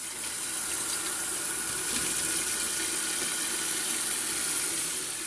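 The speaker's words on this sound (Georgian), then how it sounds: "და ეხლა ეს წყალი გადავაქციოთ" Boiled water is tipped out of a pot of liver for Tbilisi-style liver kaurma, a steady, close rushing pour that holds at an even level throughout with no talk.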